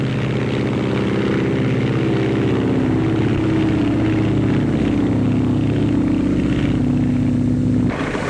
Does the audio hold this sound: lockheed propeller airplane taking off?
yes